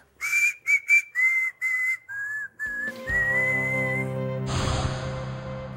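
A person whistling a short melody in separate, clear notes that slide lower, followed by a breathy exhale and a rush of noise.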